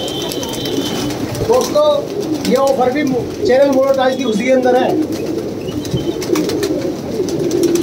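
Punjabi, Madrasi and desi pigeons coo steadily in the background, a soft repeated murmur running under someone speaking Hindi throughout.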